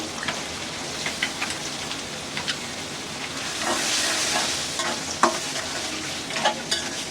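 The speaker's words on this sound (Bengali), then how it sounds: "দিয়ে দিব এখন এই যে এই চিংড়ি মাছটা" Shrimp sizzles in a frying pan with cooked spices for a taro-stem dish. A steady, soft hiss carries on with occasional stirring clinks and a swell of louder sizzling midway.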